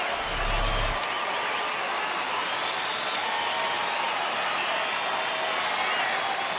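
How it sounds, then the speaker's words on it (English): A baseball stadium crowd roars and applauds for the Texas Rangers during a game against the Yankees, a dense, steady wash of cheering that holds for several seconds with no break. "Crowd making some noise, getting behind Derek Holland and the Rangers."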